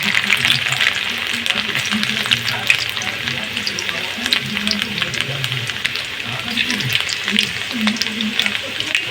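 Chopped garlic frying in a pan for dry chilli chicken, a steady close sizzle with stirring throughout and a voice talking underneath.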